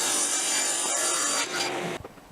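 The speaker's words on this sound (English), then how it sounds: "Now I need to cut out the leg templates." Plywood being cut for Morris chair leg templates: a steady, loud rasping saw stroke through wood lasting most of the moment, then trailing off into a few brief scrapes, with no talking.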